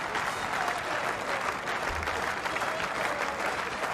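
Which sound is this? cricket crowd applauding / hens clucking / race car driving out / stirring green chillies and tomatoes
cricket crowd applauding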